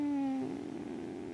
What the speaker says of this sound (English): The cat's super squeaky lately.